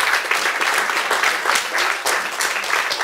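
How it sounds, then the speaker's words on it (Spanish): A crowd applauds at a municipal street inauguration ceremony in Ixmiquilpan, Hidalgo. The clapping is loud and sustained, a dense continuous patter that swells in repeated waves and never drops out. "También les pido un fuerte aplauso"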